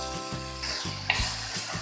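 Ginger garlic paste roasting in a hot pan with oil, giving a short, steady sizzle with a few soft clicks and one brief sharper tap, close and moderately loud with no talking.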